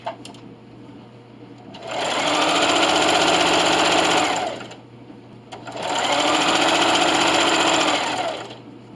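A sewing machine stitches a receiving blanket in two steady runs of a few seconds each, a fast, even whirring close by, separated by a quiet pause.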